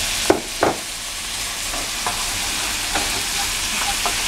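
Beans are stirred into a frying pan of bottle-gourd greens cooked with onion and garlic, giving a continuous sizzling hiss with two clear utensil knocks near the start and a few softer taps later.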